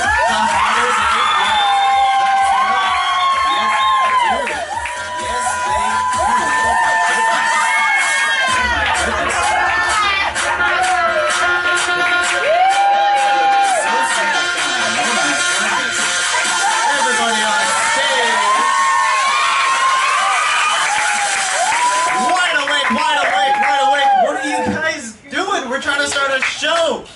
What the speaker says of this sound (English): And the louder you cheer, the harder they get.